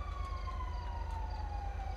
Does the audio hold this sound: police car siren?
yes